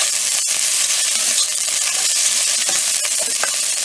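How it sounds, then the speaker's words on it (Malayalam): Grated coconut fries in coconut oil while being browned, giving a steady, fairly loud sizzle with scattered scraping and stirring clicks throughout, no voices. "ഇനി ഇത് ജസ്റ്റ് ഒന്ന് ഫ്രൈ ചെയ്തെടുക്കട്ടെ"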